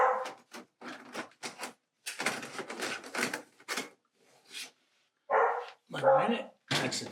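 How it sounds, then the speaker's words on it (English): A dog barks in several short bursts, some close and loud, mixed with people talking nearby in a house during a handyman job. "That's the dog."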